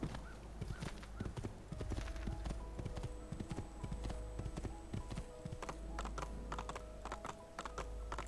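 Horse hooves clip-clop steadily on a paved street in Assassin's Creed 2, a continuous brisk rhythm of sharp knocks over a low ambient game hum, with a faint whinny.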